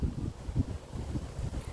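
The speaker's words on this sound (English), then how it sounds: "it's super windy today, like super windy" Strong wind on a very windy day, heard as soft, gusty low rumbling buffets on the microphone, fairly faint and with no talking.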